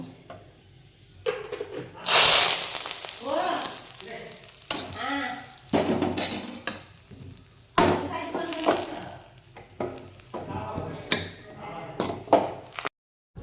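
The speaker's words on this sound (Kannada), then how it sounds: "ಈಗ ಇದಕ್ಕೆ ಒಂದು ಒಗ್ಗರಣೆ ಹಾಕುವ" Spices sizzle in hot oil as a tempering for a drumstick leaf curry, with a loud hissing burst near the start and crackling stirring after it, close by and mixed with someone talking.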